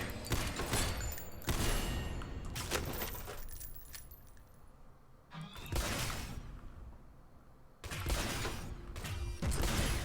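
Coil gun firing in the Synthetik video game: several loud, sharp electronic bursts with clattering, metallic tails, spaced a few seconds apart with quieter stretches between.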